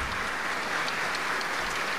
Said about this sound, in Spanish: este aplauso es un reconocimiento por las labores ejercidas